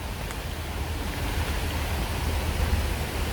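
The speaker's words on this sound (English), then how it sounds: "This little creek flows into the Oconee River." Small creek flowing into the Oconee River at Ben Burton Park in Athens, Georgia, a steady broadband rush of running water, close and unbroken.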